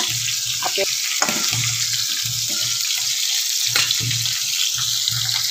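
Steady sizzling of a rohu fish head frying in a pan, with a bright crackling hiss throughout and occasional soft clinks and stirring sounds, close and continuous.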